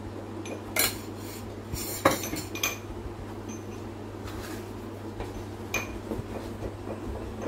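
A spoon adds ghee to a sweet cooking in a pan, with scattered metallic clinks and scrapes of spoon against pan over a low steady hum.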